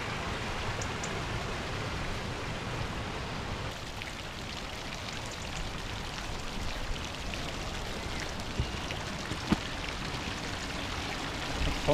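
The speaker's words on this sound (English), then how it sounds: "So the rain's starting to come down a bit as well." Steady broadband hiss of rain falling, with occasional louder drips and patters on nearby surfaces, continuous throughout and no voices.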